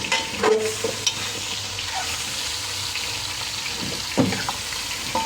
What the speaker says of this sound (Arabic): قلب ده كله على بعضه كده، ياخد تشويحه مع بعضه تاني اهو